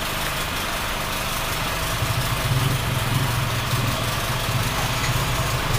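A car engine idles steadily nearby, a continuous low rumble with a slight swelling unevenness partway through, with no talking.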